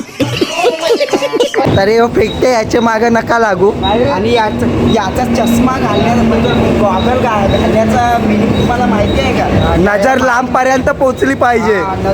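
A moving train rumbles and rattles underneath, while people talk loudly over it almost the whole time.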